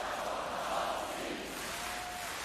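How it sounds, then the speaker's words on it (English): A dense arena crowd at a men's volleyball World Championship quarter-final between Poland and the USA roars and chants a player's name, a continuous wash of many voices with no single speaker. "the crowd singing Kuba's name"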